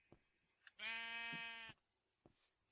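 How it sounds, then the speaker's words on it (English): A single sheep bleats in Minecraft (MystCraft), one sustained, fairly loud bleat of about a second standing alone, with a few faint clicks of game noise before and after. "sheep."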